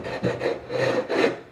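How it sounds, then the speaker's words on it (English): A flat piece rasps against the cut edges of drywall to smooth them, giving three short, close scraping strokes in a quick back-and-forth rhythm. "you can rub a flat piece that you don't mind getting plaster on against it"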